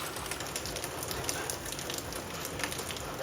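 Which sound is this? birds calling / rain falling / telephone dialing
rain falling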